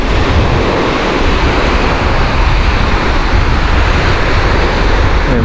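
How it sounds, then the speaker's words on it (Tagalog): Strong waves surge into a rocky cove, a loud, steady roar of surf with constant broadband rush and no pauses or voices. "Pero malakas pa rin yung alon."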